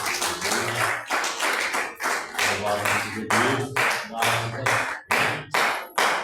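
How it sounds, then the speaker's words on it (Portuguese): A church congregation claps in a steady, rhythmic beat during a worship service, the sharp claps loud and close while a voice sings or speaks over them. "Olha para as palmas de glória"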